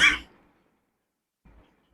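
A single sharp cough at the start, followed by silence and a faint breath or small throat sound a moment later.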